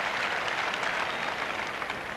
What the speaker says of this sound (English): That should bring a cheer. Their first ace.